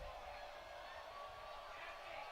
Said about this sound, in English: Bowdoin crowd making some noise